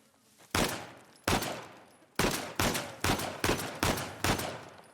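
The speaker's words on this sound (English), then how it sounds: "I've tried shooting at that" Gunfire in the video game Uncharted: The Lost Legacy, seven loud, sharp shots fired one at a time with brief echoing tails, spaced irregularly, with no talk over them.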